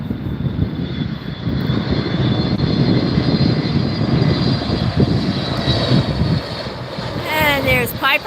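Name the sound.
Frontier Airlines Airbus A320 at LAX airport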